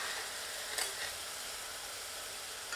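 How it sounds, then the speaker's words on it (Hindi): Ground onion sizzles steadily in hot oil over medium heat, a soft, continuous hiss with a few brief stirring scrapes, close and alone. "मध्यम आंच पर तेल में प्याज को भूनते हैं जब तक कि प्याज सुनहरी नहीं हो जाती।"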